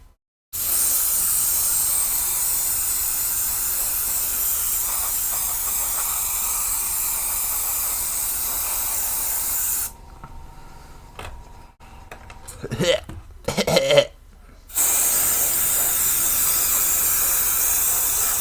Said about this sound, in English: This is one of the very rare occasions that I'm using an airbrush on camera.